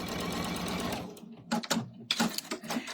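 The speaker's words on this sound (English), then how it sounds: "place that right sides together up to this drawn line and stitching along here." Sewing machine stitching fabric for a mug rug, running in a steady continuous whir that stops, then restarts in short close bursts.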